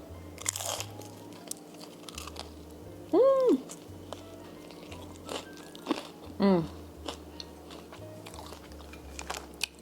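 Crunchy bites and chewing on a low-calorie party pizza with thick crust and light mozzarella, repeated close up over a low steady hum, with a cat meowing twice in between.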